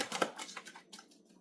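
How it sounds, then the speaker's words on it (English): Quick papery riffling clicks of tarot cards being shuffled, a short close burst that thins out into a few soft flicks. "I'm going to have to shuffle this all over"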